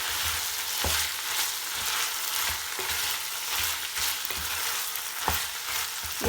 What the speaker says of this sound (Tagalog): You fry it for another 2 minutes.